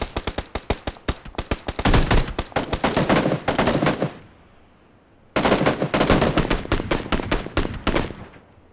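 Rapid automatic gunfire during a squad firefight in the video game PUBG, with dense bursts of shots, a brief pause, then another loud sustained volley, no talking.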